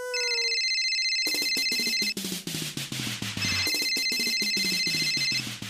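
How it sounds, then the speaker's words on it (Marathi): A woman's phone rings loudly in a classroom, sounding a bright electronic ringtone with a rapid, pulsing rhythm that plays continuously without talk. "बाईच्या फोनची घंटी वाजली"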